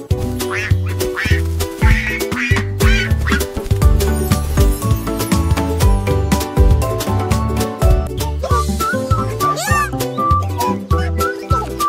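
Duck quacks ring out repeatedly amid a bouncy children's nursery song, loud and rhythmic, mixed with other playful cartoon animal sounds and music.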